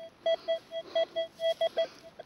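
A metal detector sounds over a buried coin during a night dig, giving a string of short, clear, high-pitched beeps in an irregular rhythm against a quiet background.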